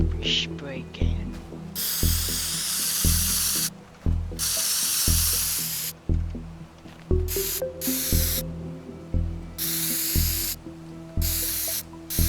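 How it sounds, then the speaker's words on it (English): Spray can hissing in the Teardown video game, long broadband bursts repeated about eight times with short gaps, loud over a droning low game background. "Spray can."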